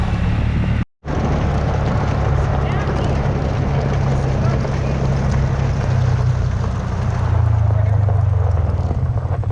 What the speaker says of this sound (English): I've been able to ride around on a side-by-side, so this is awesome